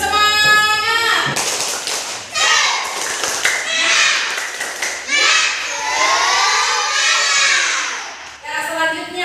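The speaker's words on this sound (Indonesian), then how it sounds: "Tepuk semangat." Children in a classroom doing a rhythmic spirit clap, a run of sharp hand claps mixed with their chanting voices, close and lively throughout.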